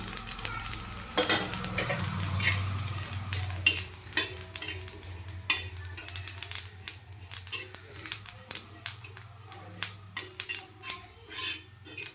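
Coconut, poppy seeds and sesame roasting in oil in a pan, a soft sizzle under repeated scraping and stirring taps of a spoon against metal, close and moderately loud.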